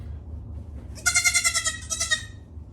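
A Nigerian Dwarf baby goat gives a short run of close, high-pitched bleats, a quick quavering cry lasting over a second, over faint background hum.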